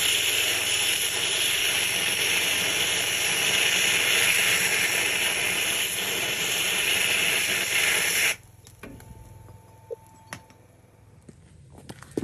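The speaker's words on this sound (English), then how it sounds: "we're going to use the Aerox slice exothermic lance, punch through these and then they'll just fall out" An Aerox Slice exothermic lance burns through a stuck bucket pin with a loud, continuous fierce hiss and roar for about eight seconds, then cuts off abruptly into quiet, leaving a few faint clicks and taps.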